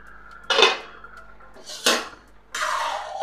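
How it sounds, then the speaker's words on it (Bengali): A metal lid lifted off a pot of dal gives three distinct clanks and scrapes, close and clear, spaced over a few seconds in a quiet kitchen. "ঢাকনাটা তুলে নিলাম"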